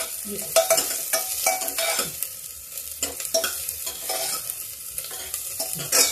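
Onions being fried in a pan with ginger and green chilli, stirred with a utensil in a series of close scraping strokes over a steady sizzle, with no one talking.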